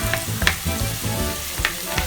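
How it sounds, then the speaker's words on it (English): Onions and garlic sauté in a pan for puttanesca, giving a close, steady sizzle with a few sharp utensil clicks and scrapes as they are stirred. "time to saute the onions and the garlic"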